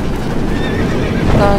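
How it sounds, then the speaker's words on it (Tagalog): A horse in the Roblox game Dead Rails gives a loud, close whinny lasting the whole moment, with a faint clip-clop of hooves beneath the call. "Pinasagasaan yung kabayo."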